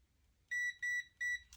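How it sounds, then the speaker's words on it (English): A continuity tester touched to a wire inside a Fender Princeton Reverb amplifier build gives three short, clear electronic beeps in even succession over near silence. "if I go ahead and touch this wire here, we should get a little beep sound"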